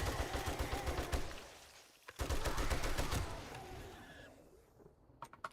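Rapid bursts of gunfire from the survival game 7 Days to Die, close and loud, with a steady stream of shots broken by a brief pause, then scattered single shots trailing off.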